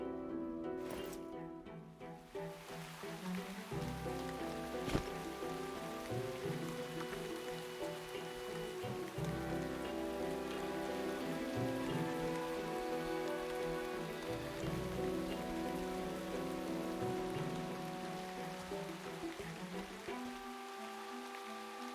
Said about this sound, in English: I can hear the rain, I can't see the rain